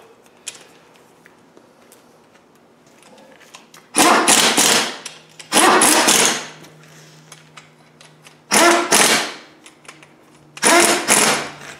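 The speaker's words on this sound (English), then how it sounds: "we'll just put our gun on low speed and just give them a very tighten up" An impact gun on low speed runs up bolts during an LT230 transfer box conversion for an LT77 or R380 gearbox, four loud rattling bursts of roughly a second each separated by quiet pauses, close up with no talking.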